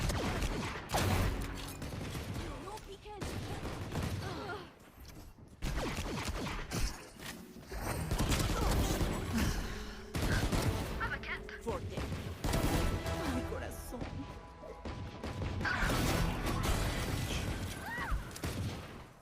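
Gunfire and headshots in the tactical shooter Valorant, rapid clusters of sharp shots and impacts in uneven bursts, with game effects and voices talking over them.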